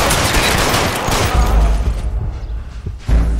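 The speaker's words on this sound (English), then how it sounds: "In der Zeit schieße ich ordentlich auf ihn drauf" Rapid gunfire rattles in L.A. Noire Remake, a loud close fusillade of overlapping shots that thins out, then returns with a final heavy burst.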